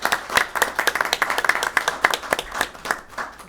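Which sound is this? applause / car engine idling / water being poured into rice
applause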